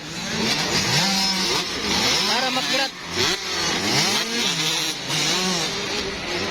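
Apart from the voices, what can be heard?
motorcycles revving during a race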